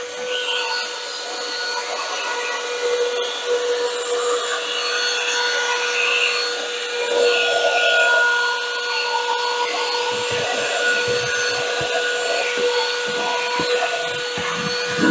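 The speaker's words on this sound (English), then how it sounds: "So we're gonna come in here, suck up some of this sand." An XREXS portable handheld vacuum runs steadily as it sucks up sand, giving a constant high whine with scratchy gritty rattling as grains are pulled in, loud and close with no talking.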